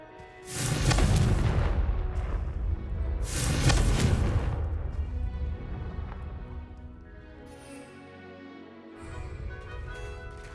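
Two heavy booming fireball blasts from the Confringo spell in Hogwarts Legacy, the first about a second in and the second near four seconds, each with a loud low rumble that fades into lingering crackle and game music.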